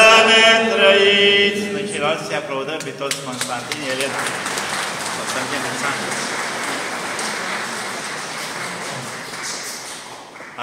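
A crowd of pilgrims breaks into dense, sustained applause after voices singing together, the clapping rolling on and slowly thinning out.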